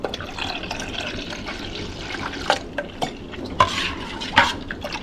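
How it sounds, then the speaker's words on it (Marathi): Yogurt (curd) being whisked smooth in a bowl, with a soft continuous stirring swish and a few sharper clinks of the whisk against the vessel, close up and with no talking. "हे बघा दही आपल्याला ना असं चांगलं असं फेटून घ्यायचंय."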